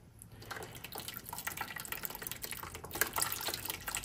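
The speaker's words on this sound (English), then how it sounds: "getting water everywhere." Water drips and splashes steadily and close by, a busy patter of small droplets and trickles with no talking.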